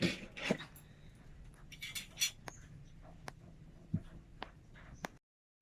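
Pet dogs at a home in the Philippines let out faint, scattered whimpers and small yelps between soft rustles and clicks, quiet and intermittent, before the sound cuts off.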